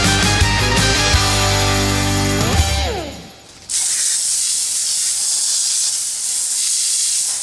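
A spray of water rinses wheel cleaner off a car wheel, a loud, steady hiss that follows a passage of tonal mechanical noise and a brief dip, then runs on unbroken.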